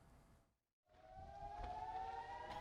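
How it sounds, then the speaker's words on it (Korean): An air raid siren wails after a short silence, a steady rising tone heard at moderate distance under faint background noise, as part of a broadcast news report on an Iranian missile attack. "공습 사이렌이 울리고"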